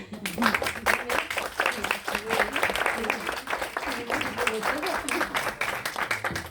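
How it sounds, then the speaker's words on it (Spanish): Applause from an audience in a cultural centre hall, a dense crowd clapping steadily and evenly throughout, fairly close and continuous. "le vas a dar un aplauso"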